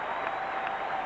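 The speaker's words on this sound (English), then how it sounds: "the crowd in this Western grandstand giving New Zealand a standing ovation" A rugby grandstand crowd in Australia gives New Zealand a standing ovation at a 1988 Bledisloe Cup test, dense steady applause and cheering from many hands, loud and continuous throughout.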